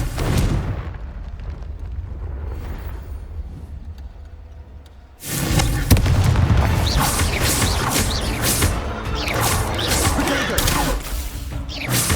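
Confringo fire spell in the video game Hogwarts Legacy, a soft rumbling buildup followed by a sudden loud blast and several seconds of dense crackling, crashing explosive noise.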